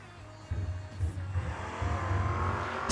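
Drag race cars, a Mustang and a Camaro, launching at a footbrake drag racing event, with a loud low engine roar swelling up from a quieter start and holding steady as they pull away.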